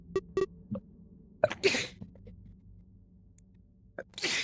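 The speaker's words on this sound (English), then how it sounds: "Sneezed." A single close human sneeze bursts out sharply after a few small clicks and breaths, followed by a brief quiet stretch and another rushing exhale.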